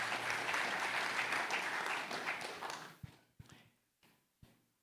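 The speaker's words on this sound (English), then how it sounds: "Please give the panelists another round of applause." An audience at an investment forum launch in Barbados applauds the panelists with a dense burst of clapping that tapers after about three seconds into a few scattered, isolated claps.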